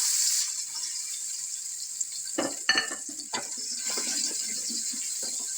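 Onions sizzle in hot oil inside a pressure cooker, a steady bright hiss with a few clattering stirs and knocks partway through, close by and with no talking.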